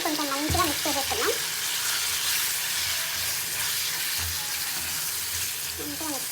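Masala spices frying in hot oil in a side pan, a steady close sizzle with brief clinks of a utensil near the start and end.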